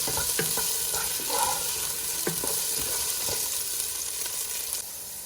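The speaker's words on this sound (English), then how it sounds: "Make sure you are stirring occasionally here." Food fries in a pan over medium heat, a continuous close sizzle with occasional clicks and scrapes from stirring, no talk.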